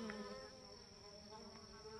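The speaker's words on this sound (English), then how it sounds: "Every one of these cups has got bees in it." Honey bees buzz in and around small cups of sweet potato slips, a faint continuous drone with high steady tones and no speech.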